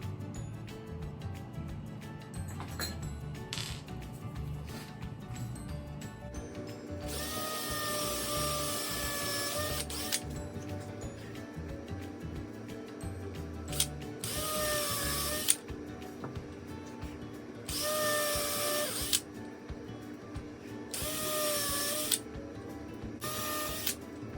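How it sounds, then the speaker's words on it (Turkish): A power drill bores into the wooden base plate of a cross-cut sled, stopping at a masking-tape depth mark. It whines in five short, loud bursts over a low steady background hum. "bir maskeleme bandından stop işareti yapıyorum ve buraya kadar deliyorum"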